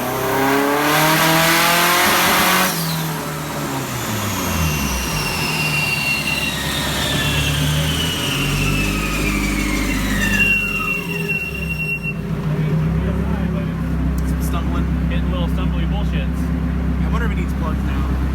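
A Nissan S13 drift car with its boost turned up, revving hard at first, then its engine note sweeping up and down through several throttle blips while a squealing whine rises and falls, with people talking over it.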